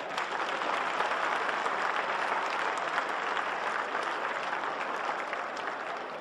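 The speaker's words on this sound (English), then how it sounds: "Let's give them a round of applause." An audience at an event applauds steadily, a dense, continuous wash of clapping from many hands that holds at an even level for several seconds, with no voices standing out.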